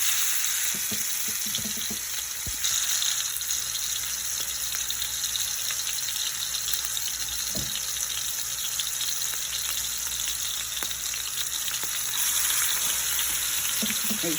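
Jumbo stuffed burgers sear in a pan with a loud, constant sizzle and crackle, broken by occasional soft clicks and knocks, and no one speaks.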